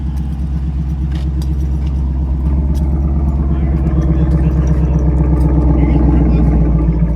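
A big LT1 V8 car engine idles with a deep, loud, steady rumble and lopey pulsing, recorded up close at a car dealership lot, with people talking over it.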